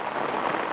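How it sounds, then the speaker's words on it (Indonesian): Steady rain falls in the morning near a toll road construction site with an excavator and bulldozer, a dense, even hiss of drops on surfaces holding constant through the short stretch. "Karena ini pagi hari saya pikir tidak akan turun hujan, ternyata hujan juga."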